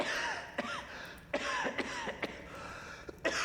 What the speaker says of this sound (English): It's nasty cough you have there.